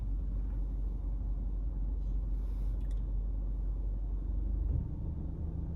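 Steady low rumble inside a car with the air conditioning running, a continuous hum and whoosh filling the cabin, with a slight shift in tone near the end.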